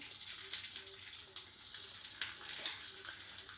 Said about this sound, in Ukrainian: І зараз все це я заливаю вершками